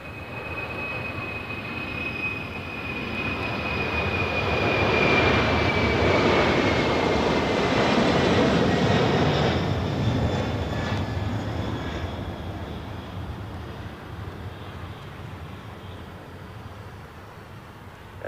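A large jet airliner at LAX taxis toward runway 25 Left, its engine roar swelling to a loud, steady peak mid-way and then slowly fading as it rolls past, with a thin high whine over the rumble and no talk.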